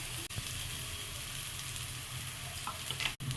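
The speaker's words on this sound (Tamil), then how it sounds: "அரைச்சி வச்ச கருவேப்பிலை அதோடு சேர்த்துக்கலாம் இன்னும் கொஞ்சம் ஆயில் சேர்த்துக்கலாம் பரட்டிக்கலாம்" Ground curry leaves and roasted peanuts fry in oil in a pan, with a steady close sizzle and soft stirring scrapes throughout, broken by a couple of brief pauses.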